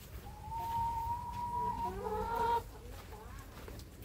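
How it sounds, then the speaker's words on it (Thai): Backyard chickens on a smallholding farm cluck softly nearby, with a drawn-out call followed by a few shorter clucks over quiet outdoor background noise. "ไปดูน้องไก่ค่ะ"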